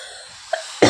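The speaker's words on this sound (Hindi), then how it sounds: "मुझे खांसी आ रही है, खांसी आना मेरा स्टार्ट हो गया है।" A woman gives a single short cough near the end of a brief, quiet moment, preceded by a faint throat sound, close to the listener.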